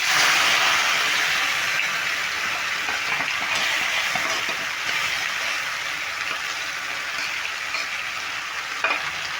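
Pressed spices with green chili fry in oil over a medium flame for a ridge gourd dish. A steady, close sizzle runs throughout, broken by stirring scrapes, and no one talks.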